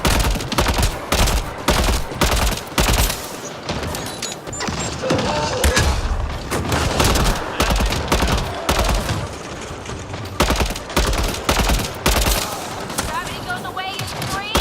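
Heavy gunfire from Mass Effect Andromeda weapons, rapid bursts and repeated loud shots with crashes, continuing steadily throughout with game effects and occasional voices underneath.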